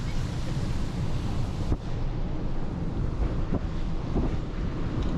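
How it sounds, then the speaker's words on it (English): Sea waves washing in along a Greek shore, heard as a continuous loud rushing roar with heavy wind buffeting the microphone, a few surges standing out over the steady wash. "I feel like the waves are gonna crash"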